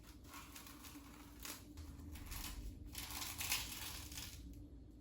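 Knife or scissors cutting full-size dried seaweed sheets into long strips, a faint crisp crunching and crinkling that repeats steadily and closely.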